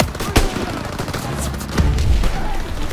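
Enemy rocket launcher fire and surrounding gunfire in the video game Call of Duty WW2, rapid loud shots with a deeper booming impact near the end.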